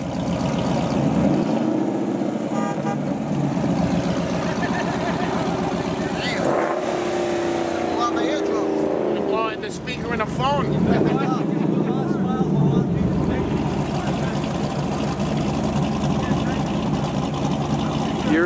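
Dodge Charger Hellcat muscle cars rumble and idle at a busy car meetup with trucks around, a steady loud engine drone with occasional revving swells, mixed with crowd chatter and nearby talking throughout.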